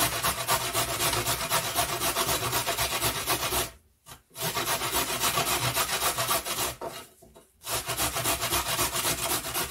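Fresh cabbage grated by hand on a grater for home sauerkraut in a village kitchen: steady, loud rhythmic rasping that fills the clip, with two short pauses between runs of strokes.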